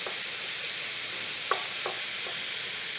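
Ground meat browns in a hot pot for a Greek meat sauce, giving a soft, steady sizzle. A few faint taps and scrapes come through as a utensil breaks it up.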